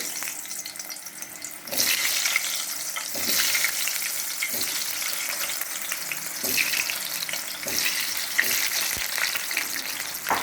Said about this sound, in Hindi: देखिए तेल हमारा गर्म हो गया है, और इसमें हम ये आलू डाल देंगे।